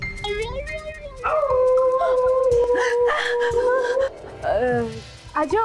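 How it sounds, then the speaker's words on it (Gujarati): A dog howls and whimpers in long wavering, rising and falling cries with short yips, close and loud, as a person says a few words near the start. "કૂતરાનો ભસવાનો અવાજ હતો."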